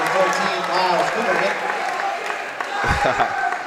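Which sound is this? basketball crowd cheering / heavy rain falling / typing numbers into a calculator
basketball crowd cheering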